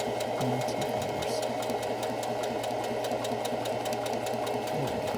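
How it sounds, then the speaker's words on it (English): A sewing machine stitches fabric with a steady, fast mechanical whir and rapid needle ticking that runs on without pause, close by, with no one talking. "the sewing machine does most of the work"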